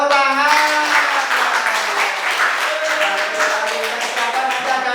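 Classroom applause, a group of hands clapping together in a steady patter that starts loud and continues for several seconds, with a teacher's voice audible over it.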